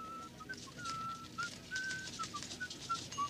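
A person whistles a short, bright tune of quick rising and falling notes over a soft background hum.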